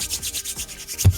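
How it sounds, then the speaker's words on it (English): Bare hands rub together briskly close to the mic, a steady back-and-forth swishing repeated about eight times in just over a second. "That's the sound of my hands."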